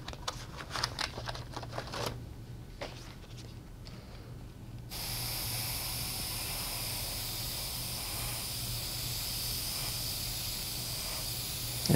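An airbrush sprays paint onto card. Faint clicks and handling come first, then a steady, even hiss starts and runs unbroken to the end at moderate level. No one speaks.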